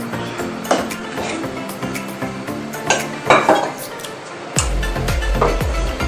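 Maida flour roasting in ghee in a pan over a low flame, with clinks of a utensil against the pan and soft scraping stirs, a voice talking over much of it.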